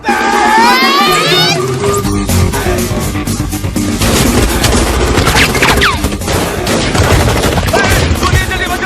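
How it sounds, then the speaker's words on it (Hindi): Rapid volleys of gunfire crackle and pop densely for several seconds, loud and near, with a crowd and excited voices shouting underneath. "गोलियां चल रही है भाई"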